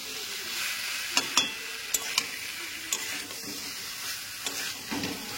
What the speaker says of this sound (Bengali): আর এর সাথে আর একটু মিক্স করবো, মিক্স করে একটু কষাই করবো।